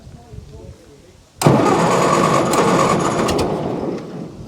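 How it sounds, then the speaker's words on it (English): A 1946 David Brown aircraft tug engine catches on choke after a brief cranking whir, bursting into a loud, steady running clatter close by. "we'll just see if she'll start with a little bit of choke"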